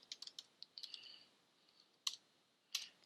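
Close, crisp typing on a computer keyboard: a quick run of light keystrokes, then a pause, then two louder isolated key presses, entering a command in MATLAB with no speech.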